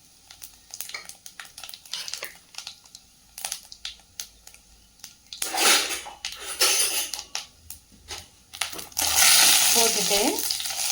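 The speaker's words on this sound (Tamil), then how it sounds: "சூடான கடாயில் ஆயில் விட்டுட்டு சோம்பு, 2 பட்டை," Fennel seeds, two cinnamon sticks and a star anise dropped into hot oil in a kadai for egg curry, with short crackles and stirring scrapes building into louder bursts of sizzling near the end.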